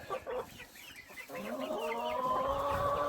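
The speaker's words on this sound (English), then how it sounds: "that's the rooster right there" A backyard flock of chickens in a simple coop and run, with a rooster among them, cluck and murmur continuously at close range, and drawn-out calls rise over the chatter.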